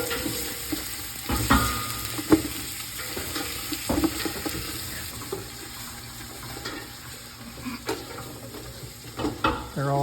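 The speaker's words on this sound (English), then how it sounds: "So you saute them until they turn red." Crabs sauteing in a busy outdoor cooking setting, with a continuous hiss of frying and repeated clattering stirs and knocks in the pan, moderately loud and close, some watery sloshing mixed in.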